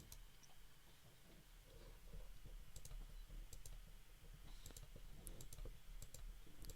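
A series of sharp, quiet clicks spaced irregularly over a faint steady background hum, small and dry like a mouse or keyboard tapping.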